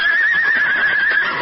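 A gray horse neighs in a radio drama sound effect, one loud, close, sustained whinny with a wavering high pitch, heard alone.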